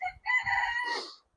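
A chicken in a backyard coop gives a loud, close call that sounds like a short crow or squawk, rising and fading within about a second, with faint clucks just before it.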